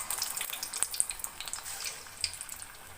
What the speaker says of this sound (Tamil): இப்போ வந்து சின்ன சின்ன உருண்டியாக நம்ம எடுத்து எண்ணெய் சட்டியில் போட்டுக்கலாம்.